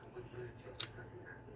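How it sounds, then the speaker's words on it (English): A Kodak Brownie Reflex Synchro camera shutter fires once in a single sharp, bright double click, heard close and alone over a quiet room background. "every time you press it, it just quickly opens and closes the shutter"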